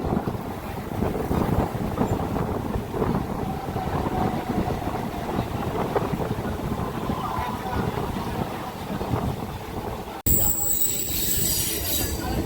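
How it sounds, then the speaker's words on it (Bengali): Local train on the Howrah–Panskura line pulling into Fuleshwar station, a steady loud rumble of wheels on rails with some squeal, ending with a brief shift to a quieter, hissier sound near the end. "এই মুহূর্তে আমাদের ট্রেন পৌঁছে গেল ফুলেশ্বর স্টেশনে"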